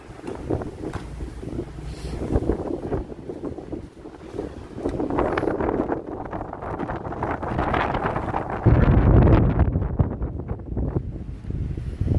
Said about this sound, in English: So the snow's stopped. We just got the wind.